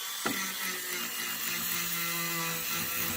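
A power tool whirs steadily while polishing the slide of a Suzuki Sirus 14 knock-off gun, a continuous close buzzing hum with a faint click at the start and no talk.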